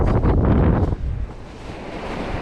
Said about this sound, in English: the wind's making it a little bit chilly